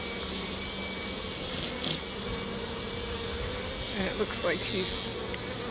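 Dense, steady buzzing of many bees from a swarm trap outdoors after a storm, a continuous close drone with a few individual bees passing nearby, while someone briefly speaks.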